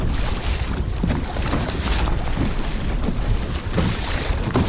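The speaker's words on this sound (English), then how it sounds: "you can tell how the water just all of a sudden got real rough around here" Choppy, rough sea water slaps and washes steadily around a fishing kayak out on open water, with constant wind rumble buffeting the microphone and no talking.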